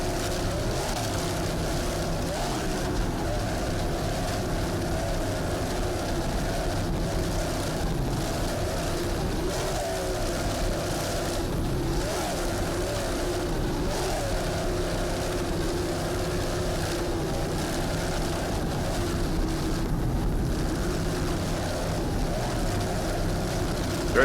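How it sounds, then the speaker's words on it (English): Offshore powerboats racing at the 2003 Brick offshore grand prix: a continuous loud engine roar with shifting pitch and wind-like rush holds steady for over twenty seconds. "we're watching this offshore powerboat racing Jersey boy style"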